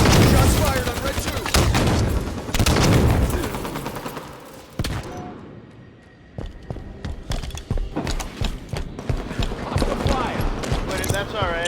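Gunfire in the Halo 5 video game, rapid bursts of automatic shots and heavy impacts in clustered volleys, loud and close, with a player talking over the action.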